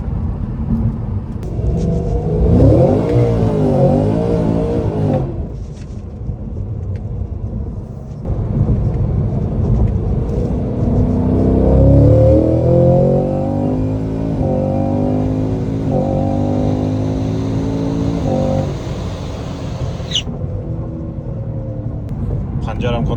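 A tuned high-horsepower performance car pulls hard twice, its engine note climbing loud and close with deep drivetrain rumble between runs, while a person talks over it.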